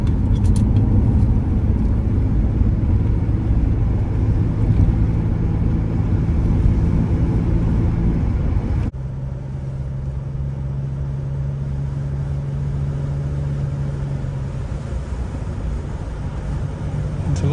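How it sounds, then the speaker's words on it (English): A 1986 BMW 635 CSi E24 automatic cruises along the road. Steady engine and road drone fills the cabin, and the tone drops midway as the gearbox shifts up. "here we are out driving in this 635 CSi. Driving absolutely beautifully."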